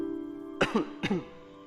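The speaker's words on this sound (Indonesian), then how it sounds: "Dengan batuk, suara batuknya." An elderly woman gives two close, rough coughs in quick succession over a faint steady hum, followed by a short quiet.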